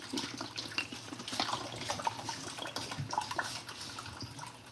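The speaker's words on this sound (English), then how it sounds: "So I'm going to throw some water in here." Water poured into a cooking pot in a kitchen before adding rice, a faint steady splashing and trickling with small drips, fairly quiet and alone.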